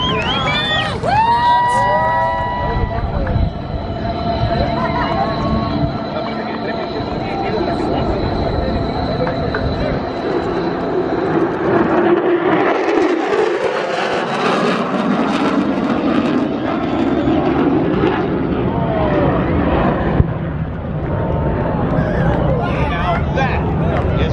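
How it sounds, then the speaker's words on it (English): A military helicopter formation with an MH-53, two MV-22 Ospreys, an AH-1 Whiskey Cobra and a Huey passes over an air show at MCAS Miramar, a loud rotor and engine roar rising and sweeping past while an announcer talks. "we've got the MH-53 in formation, 2 MV-22 Ospreys, the AH-1 Whiskey Cobra, and the Huey helicopter."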